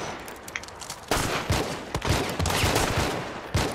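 Rapid bursts of gunfire in the video game Hunt, several loud overlapping shots and volleys cracking in quick succession with no voices over them.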